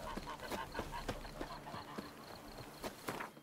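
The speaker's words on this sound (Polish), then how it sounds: "To gęś mnie spróbuje zaatakować" A goose honks in the video game The Witcher 3: Wild Hunt next-gen, with repeated short nasal honks over a steady clip-clop of horse hooves, all moderately quiet and without speech.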